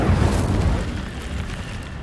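An Incendio fire spell cast in Hogwarts Legacy, heard as a loud low burst and roar that fades into a steady rushing whoosh over about two seconds, with no talk.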